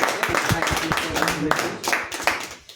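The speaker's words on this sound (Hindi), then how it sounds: "श्री उमेश जी के लिए जबरदस्त ताली लगना चाहिए" An audience claps for Shri Umesh at a gathering, with scattered, uneven handclaps running beneath loud, continuous talk.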